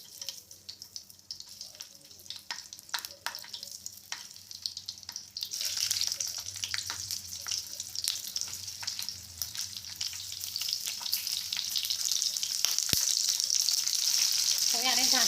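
Stuffed green chillies sizzling in hot oil in a pan over a medium flame, a steady close frying hiss that grows louder and denser, with occasional clinks and stirring.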